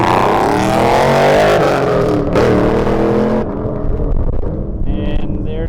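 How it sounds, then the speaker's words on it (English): A truck on an autocross course at a Pro Touring Truck Shootout event roars loudly and accelerates, then the engine note drops away and fades, with a commentator talking over it. "so Tyler is out on course now"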